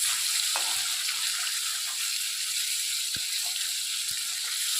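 Steady, close sizzling of bata fish frying in hot oil, a continuous crackle with occasional light pops and clinks, no voices.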